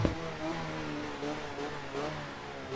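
A car engine in the Assetto Corsa EVO racing game, fitted with a fairly large flywheel and an automatic-clutch paddle-shift gearbox, drones and revs steadily at moderate volume throughout.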